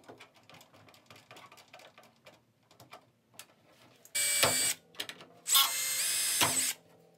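Quiet clicks and handling noises, then two loud bursts of a small drill whirring as a 1.5 mm bit bores into a carbon rod, each lasting about a second.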